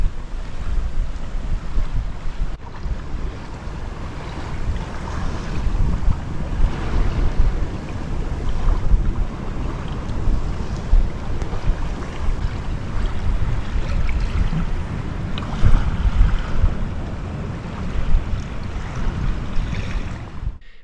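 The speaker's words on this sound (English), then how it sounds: "Sailing downwind." A sailboat runs downwind offshore, with strong wind buffeting and roaring across the microphone over a continuous low wash of waves and water rushing past the hull, loud and steady with no voices.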